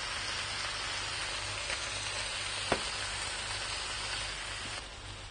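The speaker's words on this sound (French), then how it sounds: "on place les brocolis à l'intérieur. Et on remue 30 secondes" Broccoli stirred into a hot, sizzling mixture in a pan, a steady close frying hiss with a single sharp clink near the middle and no voices.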